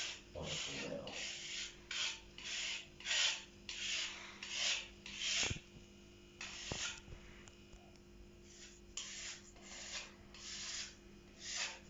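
A filling knife scraping excess polyfiller off a wall during wall preparation, a series of rhythmic rasping strokes, close and moderately quiet, with a couple of sharp taps and brief pauses.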